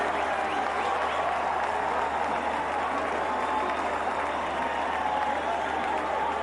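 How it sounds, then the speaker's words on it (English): A big cricket crowd at a Mumbai one-day international between West Indies and Australia cheers and applauds after a wicket, a dense, steady roar of clapping and voices throughout. "the crowd's up on their feet"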